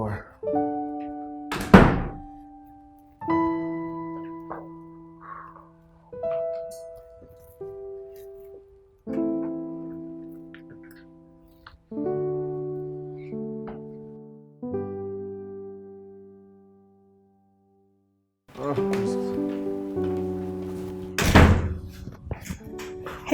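A door in an office thuds and bangs repeatedly, several heavy knocks spread across the stretch between bursts of music-like tonal sound and voices, with a loud slam near the end.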